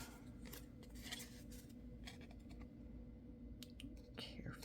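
Scissors trimming a paper craft piece on a desk, heard as faint, close, crisp snips and scrapes at an uneven rhythm over quiet room noise.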